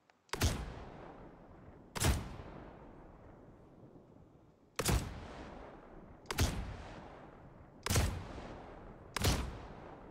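Six loud, sharp shotgun blasts from pump-action shotguns in the game Star Citizen, each booming shot trailing off into a decaying echo, spaced irregularly a second or two apart with no talking.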